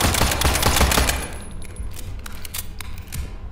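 Rapid machine gun fire in the horror shooter SCP 5K, a fast stream of close, loud shots that thins into scattered bursts toward the end.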